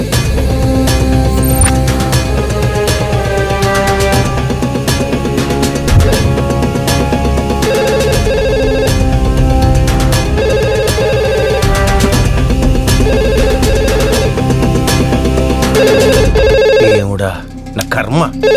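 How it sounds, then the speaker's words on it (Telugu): A telephone rings close by within a dubbed Telugu film scene, its ringing mixed into dense, loud music and other sound that continues for most of the stretch before cutting off near the end. "అవును, ఇక్కడే ఇక్కడ పక్కన రింగ్ అవుతుంది."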